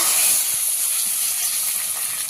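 Hot tempering (popu) hitting rasam, a bright, close sizzle and hiss with a few faint stirring clicks, continuous and loud throughout.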